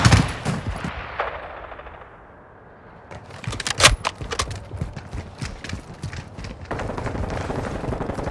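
Gunfire from Call of Duty Modern Warfare II comes in loud bursts of sharp automatic shots, with a quieter gap and then renewed rapid fire mixed with game effects.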